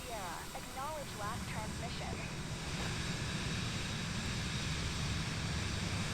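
Airplane engine drone inside a flight simulator game: a steady, hissing roar that continues throughout, with a voice briefly heard over it near the start.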